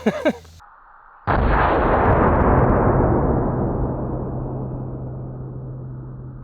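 A .500 Magnum revolver fires a single huge, close blast that booms out and leaves a long rumbling decay rolling on for several seconds, following a brief clatter beforehand.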